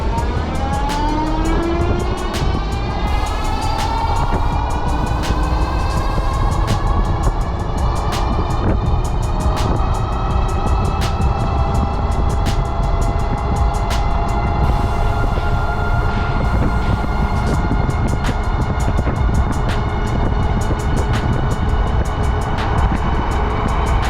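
Ride1Up Revv 1 electric bike at full throttle in off-road mode, a steady motor whine rising in pitch as it accelerates, with constant wind and road rumble throughout, loud and close.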